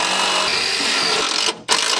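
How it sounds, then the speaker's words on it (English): A steady, loud power drill whines and grinds continuously while drilling into thick double steel on a Jeep inner fender, cutting out briefly near the end before starting up again. "Pre-drill, send a self-tapper."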